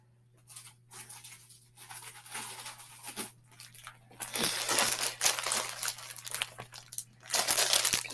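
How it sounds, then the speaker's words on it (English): Plastic packaging from a clothing haul being handled and opened, giving bursts of loud close crinkling and crumpling that grow busier and denser toward the end, with no talk over it. "Sorry about the crinkling."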